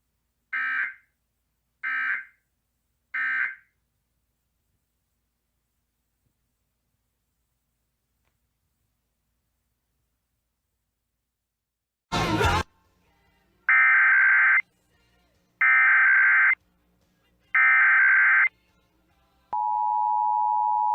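Iowa Emergency Alert System test signal: three short data bursts, a pause, a noisy burst, then three longer bursts and a steady two-tone attention tone starting at the end. All of it is clean, loud and electronic, with no talk.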